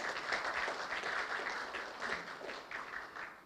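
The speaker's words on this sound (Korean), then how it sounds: "여러분 박수 부탁드리겠습니다." Audience applause at a colloquium, a dense patter of many hands clapping at once, moderately distant and fairly quiet, fading slightly toward the end.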